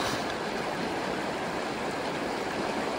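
Rushing, steady water of Cache Creek as packrafters cross it in the Northwest Territories, a continuous broadband wash close by with no voices.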